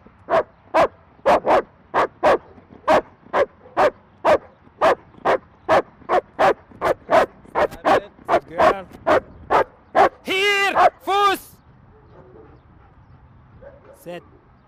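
A police dog barks in a steady, rhythmic run of about twenty loud, close barks during a demonstration of defending against an aggressive dog attack. A few higher yelps and whines follow before the sound drops to quiet.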